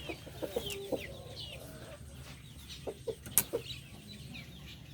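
Chocolate Orpington chickens cluck softly around a backyard farm pen, with a few short clucks and calls rising over a steady low rumble and faint outdoor background.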